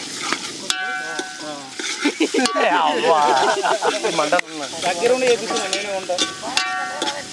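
Ginger garlic paste sizzles and hisses in a pan during outdoor village cooking for a rooster dish, with the frying partly masked by people talking loudly over it.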